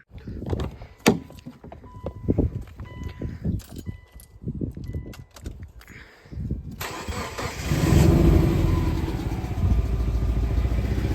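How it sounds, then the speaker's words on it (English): A Subaru car engine with a suspected leaking exhaust manifold is cranked after some clicks and knocks, catches about two-thirds through, and settles into a loud, steady running roar close by. "let's fire it up."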